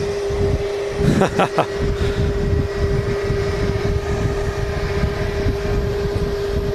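A World2Fly Airbus A350 arrives at Manchester Airport under a steady engine rumble and a fixed tonal whine. A brief cluster of sharp bursts comes near the start, then the rumble continues evenly.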